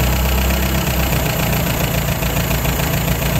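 A 1953 MG TD engine idles steadily while being tuned, a close, continuous mid-pitched rumble with even firing pulses and a faint high whine, heard alone with no talk.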